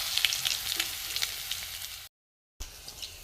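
Garlic sizzles in hot mustard oil in a wok, a close, steady crackling fry with small pops. It cuts to a brief silence and then resumes.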